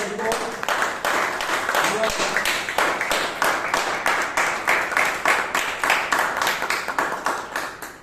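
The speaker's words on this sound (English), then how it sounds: "Give us huge round of applause to Toastmaster Shreya." Audience at a Bangalore Toastmasters club meeting applauds a toastmaster, steady dense clapping close by that swells in rhythmic waves and continues without a break.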